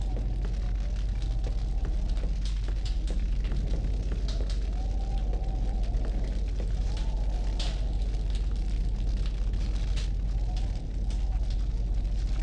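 A campfire burns in the game Indigo Prophecy, a steady crackle and hiss under a low background hum, with occasional pops and no pauses.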